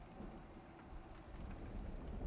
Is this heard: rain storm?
yes